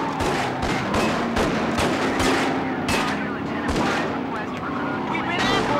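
Gunfire during an ambush in the Starsky & Hutch car-chase game: dense, loud rapid shots and heavy thuds over a constant engine and road roar, with voices mixed in.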